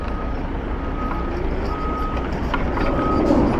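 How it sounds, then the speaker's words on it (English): Dump trucks back up near a building being boarded up, their reversing alarms beeping in a steady repeating pattern over a continuous low engine rumble, fairly close and loud. "I guess the dump trucks are going in there."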